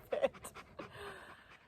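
An Anatolian Shepherd livestock guardian dog pants nearby in quick, breathy bursts at first, then eases into slower, fainter breaths.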